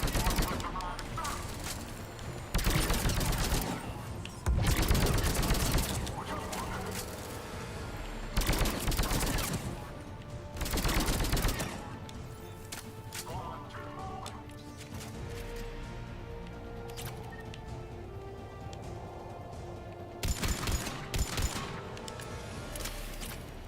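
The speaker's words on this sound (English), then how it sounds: "Must be a fully automatic sniper rifle." Rapid automatic gunfire from a fully automatic sniper rifle in the video game Mass Effect 3 comes in several loud bursts separated by quieter stretches of game ambience and music.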